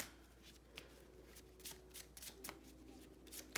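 Tarot cards being shuffled by hand for a reading, a close, quiet series of riffling flutters and soft slaps in irregular bursts, with no one speaking.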